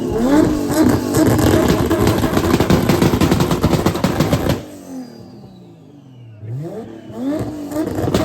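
A loud car engine at a cars and coffee meet in Miami revs hard in rapid crackling bursts, then drops to a lull before a falling whine and another rise.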